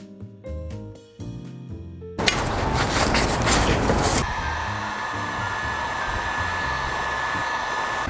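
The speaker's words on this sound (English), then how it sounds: "The reason I used the heat gun was to avoid a flash of surface rust" A heat gun blasts a loud, steady rushing roar while drying freshly hosed, rust-treated metal parts, starting abruptly after a few short clunks and continuing unbroken for several seconds.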